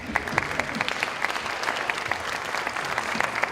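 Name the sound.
audience applause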